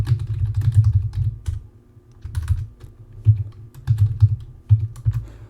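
Bursts of computer keyboard typing during a Minecraft session, close and clicky, broken by short pauses between runs of keystrokes, with no voices.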